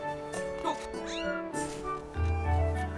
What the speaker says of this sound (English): You're a kitty mouse raccoon. But you do go meow.